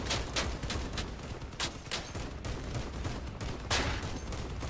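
Vehicle weapons in the combat game Crossout fire in a rapid, steady volley of sharp gunshots, a continuous rattling barrage at moderate distance with no talk.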